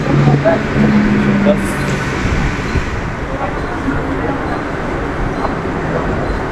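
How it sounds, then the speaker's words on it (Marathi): A local train bound for Virar rumbles steadily as it pulls into a Mumbai station, a broad low roar with faint tonal squeals, while voices murmur in the background. "ट्रेन आली 4:31ची"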